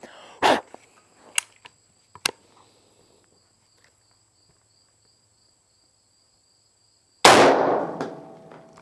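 A Diamondback .308 rifle fires M80 ball at an AR500 steel plate: a few sharp clangs and cracks early on, then near silence, then a loud, sustained blast of noise near the end.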